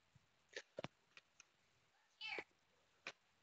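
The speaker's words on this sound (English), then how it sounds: "Why do you always have to scare the cats away?" A cat gives a few faint, short meows and small vocal sounds spaced irregularly in a quiet room, very low in level.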